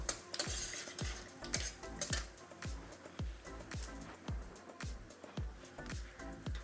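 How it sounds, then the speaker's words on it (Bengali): Bay leaf, a dried red chili and whole cumin sizzle in hot oil while a metal spoon stirs the pan, giving a continuous fry hiss under a rhythmic series of close, regular scraping knocks, with no voices. "দিয়ে দেবো ফোড়নে তেজপাতা, একটা শুকনো লঙ্কা, গোটা জিরে দিয়ে একটু নাড়াচাড়া করে নেব"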